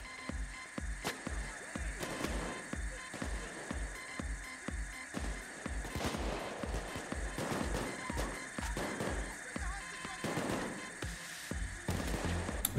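Rapid gunfire from an assault rifle in the video game Payday 2: a dense run of sharp, evenly spaced shots holds throughout, fairly near and moderately loud.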